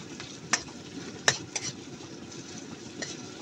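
Sardines and onions sautéing in a pan give off a low, steady sizzle with a few sharp clinks of a utensil against the pan.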